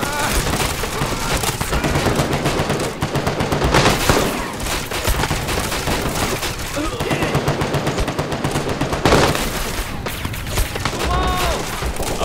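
Machine gun fire with tracers in a Vietnam War battle at Khe Sanh in the Medal of Honor video game, with dense, rapid bursts of automatic gunfire and splintering impacts, loud and sustained and peaking near the end.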